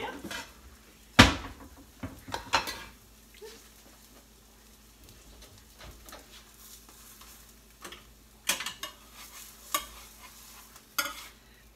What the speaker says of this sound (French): Là, je laisse cuire un petit peu de l'autre côté.